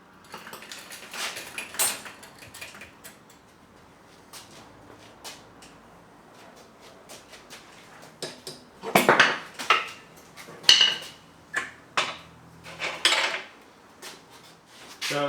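A spanner works the primary drive gear nut on a Yamaha XV1000 Midnight Special engine during a bottom-end teardown, giving a run of sharp metallic clanks and clinks in the second half after quieter handling noises.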